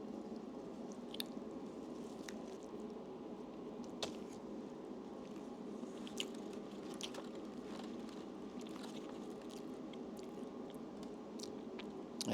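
Close, quiet chewing and squishy bites of a shrimp sandwich with hot sauce, tomato and lettuce, soft crunches scattered over a faint steady background with no talking.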